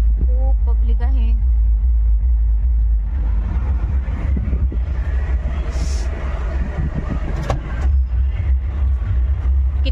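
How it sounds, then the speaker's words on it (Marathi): Heavy road traffic with many cars in Amravati after a Holi event, a loud deep engine rumble close by and continuous, with people talking over it. "किती ट्रॅफिक आहे, किती म्हणजे किती गाड्या आहेत ना."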